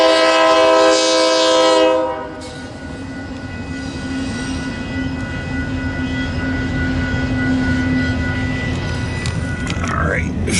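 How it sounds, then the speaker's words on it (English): An eastbound double-stack freight train rolls past a stopped autorack train at Fremont, Nebraska, opening with a loud, sustained multi-tone horn blast, then a steady rumble and clatter of wagons close by. "This is an eastbound stacker passing the Autorack train that's doing a crew change."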